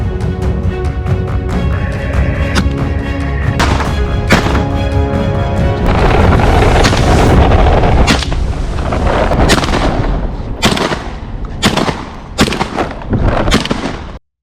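Repeated shotgun blasts fired at wild boars on Texas farmland, loud sharp reports coming in an irregular string of shots over a dense, continuous background of noise, with the later shots more spaced out and distinct.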